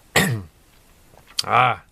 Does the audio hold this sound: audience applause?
no